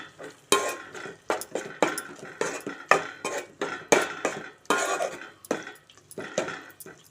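Spoon scraping and clinking against a pan while coconut powder, poppy seed powder, garam masala, coriander and cumin powders are stirred together, a close series of rhythmic strokes and pauses with no talk.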